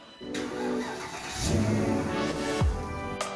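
A Porsche Cayenne 955 with a 4.5 liter V8 on its stock exhaust, starting and then revving in short blips, the engine note swelling and falling twice, close and fairly loud.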